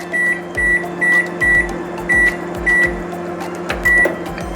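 A microwave oven baking a homemade cake hums steadily while a high electronic beep repeats about every half second, loud and close.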